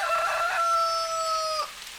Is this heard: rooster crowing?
yes